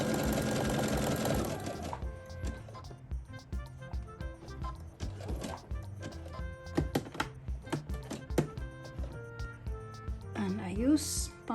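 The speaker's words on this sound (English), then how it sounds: "So now I can sew again." A sewing machine stitches a crocheted applique onto fabric in a steady rapid run of needle strikes, then stops and restarts in short bursts with clicks and handling noises.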